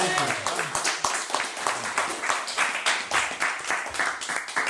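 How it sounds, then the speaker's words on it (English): Audience applause at a Halloween stage show on Bank Street, a dense patter of many hands clapping steadily and fairly close, with voices mixed into the crowd noise throughout. "Once again, a round of applause for David Williams."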